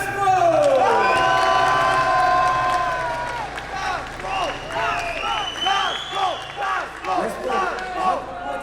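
After a basketball final, a crowd cheers for the ASMO team, opening with a loud roar and whistles that ease into rhythmic chanting and clapping. A voice carries over the noise and whistles rise in pitch.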